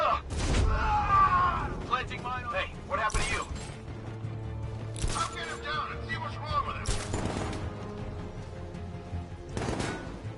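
Gunfire in Batman: Arkham Knight, several loud bursts of shots and impacts at irregular intervals amid game effects and voices talking.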